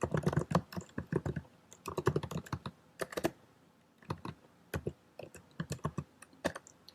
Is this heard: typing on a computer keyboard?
yes